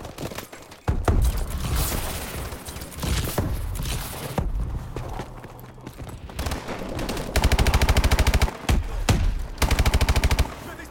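Rapid gunfire from the Call of Duty Advanced Warfare video game, dense overlapping bursts and sustained automatic fire, loud and up close, with brief lulls between volleys.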